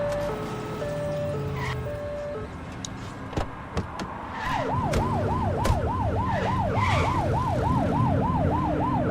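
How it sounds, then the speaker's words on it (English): Police car siren in The Precinct video game, a loud wailing yelp sweeping up and down in a steady repeated cycle, starting around midway and continuing to the end over traffic and music-like game tones. "Turn that siren off."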